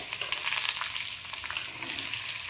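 Onion and tomato fry in oil in a pan on a gas stove for sambar, giving a steady close sizzle with soft stirring scrapes layered on top.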